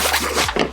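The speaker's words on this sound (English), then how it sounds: "You unzip this," The laptop-compartment zipper on a 5.11 AMP24 backpack is pulled open in one continuous, close, loud rasping zip with a couple of quick uneven tugs near the end.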